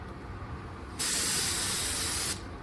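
A sustained loud hiss of a budget automotive paint spray gun firing color for about a second and a half, then cutting off, over a steady low background rumble.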